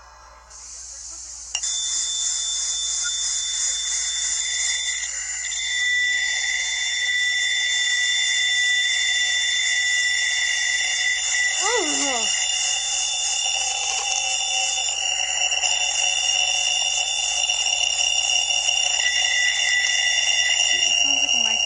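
A recorded radio signal from the direction of Sagittarius: a steady high-pitched electronic beeping tone persists over hissing static, with faint wavering signals and a brief voice-like sweep partway through.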